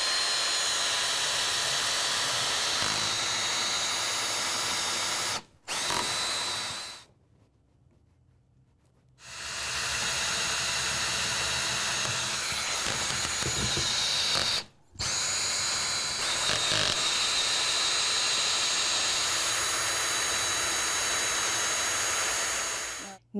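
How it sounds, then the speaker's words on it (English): A power drill whirs loudly in long continuous bursts while drilling holes in wood, stopping briefly twice and pausing for a couple of seconds between runs. "Now we're going to start the process of drilling all of these holes."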